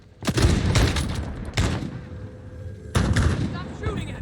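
Gunfire in the Warzone video game comes as three heavy, booming volleys, loud and close, each trailing off into a rumbling echo, with game chatter in between.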